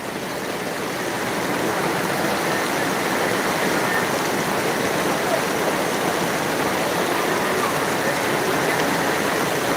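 Heavy rain pours down in a dense, loud, unbroken roar that swells in the first seconds and then holds steady throughout.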